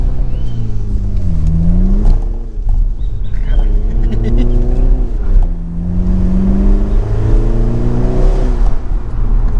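A BMW Z4 sDrive30i roadster in sport mode with an 8-speed automatic accelerates hard, its loud engine note climbing through revs, dropping at shifts and climbing again, close and dominant throughout.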